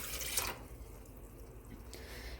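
Water pours briefly into a cooking pot for soup, a short splashing gush at the start, then a quieter trickle and faint dripping, followed by another soft burst of flowing water near the end.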